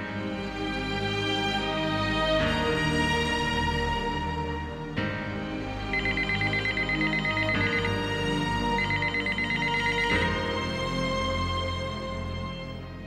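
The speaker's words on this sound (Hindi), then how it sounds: "मैं अभी खतीजा को फोन करके आती हूँ।" A telephone rings while a call is being placed, sounding as a loud, continuous electronic ringtone melody that repeats its phrase several times with no one speaking.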